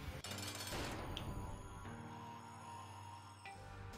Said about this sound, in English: my bombs are really explosive